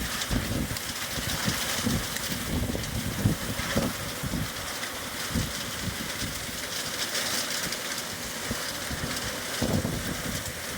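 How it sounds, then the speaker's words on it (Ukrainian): Hail pounds down during a summer rainstorm, a dense, continuous patter and drumming with irregular louder impacts, steady throughout. "Чути добре, як град б'є."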